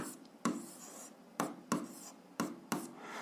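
Pen writing on paper while working an algebra problem: short, soft scratching strokes in irregular bursts, several quick marks separated by brief pauses, close and quiet.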